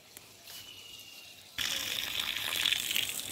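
Water pouring onto ridge gourd plants in a rooftop garden, starting as a light trickle and then turning into a louder, steady gushing splash for the remaining seconds.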